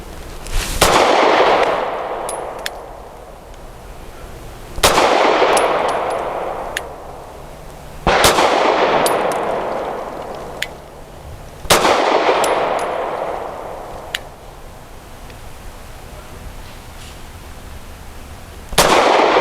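Pistol shots from a Grand Power P1 Ultra ring out as loud, sharp single cracks with steel target pings, five spaced a few seconds apart, each trailing a long echoing decay outdoors.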